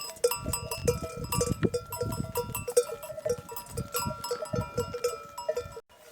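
A flock of sheep moving downhill across a pasture, with bells jangling continuously and occasional bleats mixed in, close by at a moderate level and no voices.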